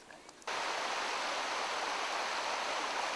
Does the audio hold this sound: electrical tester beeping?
no